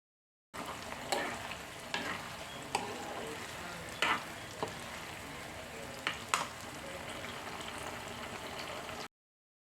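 Mushroom pieces fry in hot oil for a pickle, giving a steady, soft crackling sizzle with a few sharper pops and stirring clicks scattered through.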